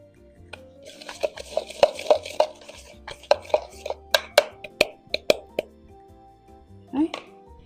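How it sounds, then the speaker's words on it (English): Two tablespoons of butter are stirred into breadcrumbs with a utensil tapping and clicking against a bowl in a quick, uneven rhythm. A voice is heard faintly now and then. "I'm going to mix the butter, 2 tablespoons of butter with the breadcrumbs"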